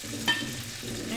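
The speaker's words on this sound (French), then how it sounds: "Je mélange." A salad with lemon and sugar is tossed and mixed in a bowl, a short soft rustling stir with one brief clink near the start, close and fairly quiet.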